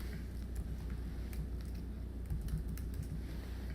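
Steady typing on a computer keyboard while an end date is entered into a data record, with quick, close key clicks in an even run and no talking.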